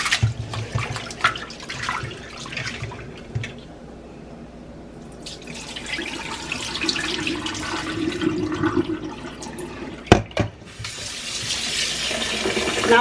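Tap water runs and splashes into a kitchen sink while preparing Lao sticky rice, the flow shifting as it is adjusted from cold to warm, with a few sharp clunks and brief quieter gaps.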